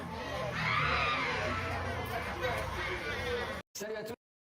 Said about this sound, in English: the desperate screams coming from that apartment are absolutely chilling